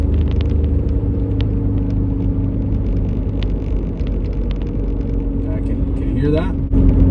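Cabin of a 2012 Suzuki SX4 AWD at low speed with a driveline noise and vibration fault: a heavy, steady low droning hum and rumble with road noise, and someone speaks over it throughout.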